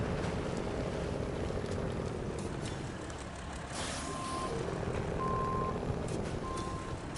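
Kenworth truck grinding through a swamp in the off-road driving video game SnowRunner, with a steady, heavy diesel engine drone under the wind and a few short reversing beeps.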